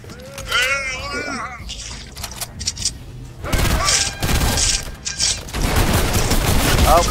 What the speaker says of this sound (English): just go get my drum gun